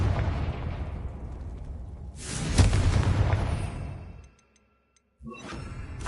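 Spell blast of the Confringo fire charm in Hogwarts Legacy, a loud booming burst swelling and rumbling for about two seconds before cutting to near silence, with further game noise returning after.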